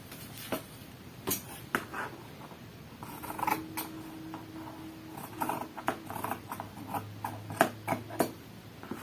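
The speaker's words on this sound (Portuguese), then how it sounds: "Vou cortar com a tesoura mesmo." Scissors cut through fabric while a circular bargello quilt is being made, giving a string of sharp snips and crisp rustling clicks at close range, irregular in rhythm and heard with no talking.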